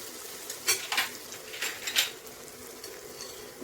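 A spatula stirs masala, red chilli powder, garam masala and turmeric into ridge gourd in a pan, giving a few soft scrapes and clinks over a faint, steady sizzle, close but quiet, no talking.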